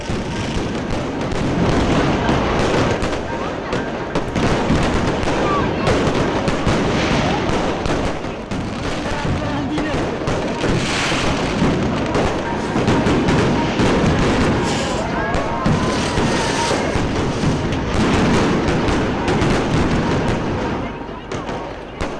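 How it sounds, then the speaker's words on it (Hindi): Continuous crackling and booming of Diwali fireworks at an illuminated temple in India, dense overlapping bursts for the whole stretch with a busy crowd murmur mixed in. "जबरदस्त आतिशबाजी हो रही है।"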